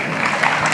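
Brief dense burst of audience clapping in a university auditorium during a youth talk, steady and moderately loud, with no voice over it.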